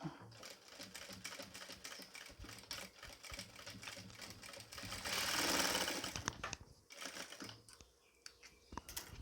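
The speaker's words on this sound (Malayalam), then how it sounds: "ഇതിൻ്റെ സെൻറ്ററിൽ കൂടി ഒന്ന് തയ്ച്ചു കൊടുക്കാം നമുക്ക്" A sewing machine stitching nighty fabric runs in fast, continuous mechanical clatter close by, surging louder for a couple of seconds mid-way and pausing briefly near the end, with a voice faintly present at times.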